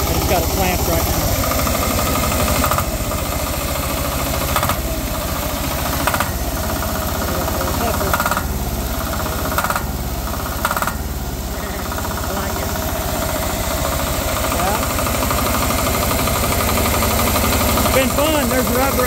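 A homemade open-source 10HP diesel engine driving a 5kW generator runs steadily close by, a continuous loud chugging drone clamped down on rubber mounts, with someone talking over it.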